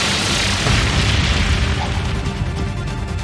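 In Trails of Cold Steel III, the Brionac cannon fires with a loud, sustained explosive blast: a dense roaring boom that fills the moment and slowly thins out, with no talk over it.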